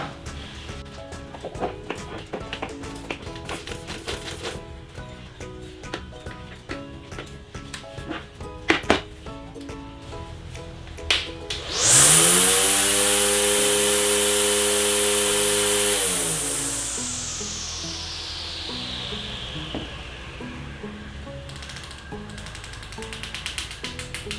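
Amid clicking and handling noises, a Xenon CDGT720 20V cordless grass trimmer motor suddenly spins up into a high whine, runs for a few seconds, then winds down and fades.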